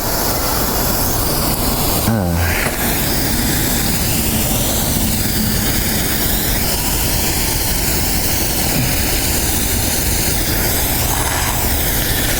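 A backyard sprinkler sprays water in a loud, steady hiss that runs unbroken from start to finish, with one brief sharp tick early on.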